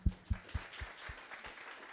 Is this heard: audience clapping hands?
yes